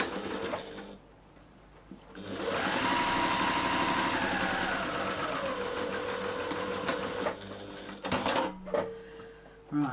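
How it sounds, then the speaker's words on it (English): A sewing machine runs steadily for several seconds while sewing a back stitch on fabric, with a low mechanical whir and rapid needle ticking, then stops with a few clicks; the machine is close and fairly clear. "I'm going to do a back stitch, guys,"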